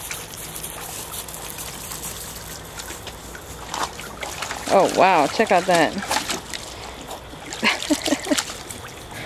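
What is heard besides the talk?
dog splashing in water pool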